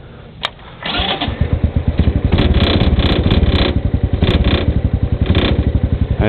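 A Hammerhead SS250 four-stroke engine catches and revs under throttle, loud and close, with a steady rapid pulsing beat that rises and falls through repeated blips of gas.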